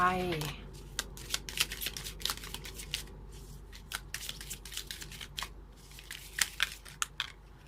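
A deck of tarot cards is shuffled and handled up close, giving rapid crisp riffles and flicks with short pauses between bursts, while someone speaks softly over it.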